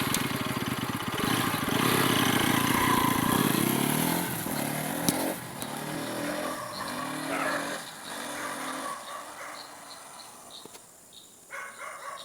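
A Bajaj Pulsar NS200 with dual-channel ABS riding at about 60 km/h, its engine a loud, steady roar with wind rush that eases off toward the end as the bike slows.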